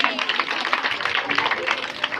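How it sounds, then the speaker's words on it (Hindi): A dense patter of applause from a crowd clapping for a little girl, with voices heard over the clapping throughout. "गुड़िया के लिए ताली बजाओ, एक बार ताली बजाओ।"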